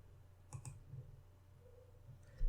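A computer mouse clicks a few times, sharp and close, with a pause and then another pair of faint clicks over quiet room tone.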